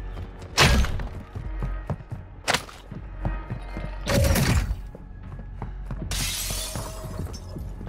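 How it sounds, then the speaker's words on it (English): Glass windows shattering in Call of Duty: Modern Warfare II, several loud separate crashes of breaking glass with thuds and clatter in between, close by and with no talk. "Stop breaking the damn glass windows in my house"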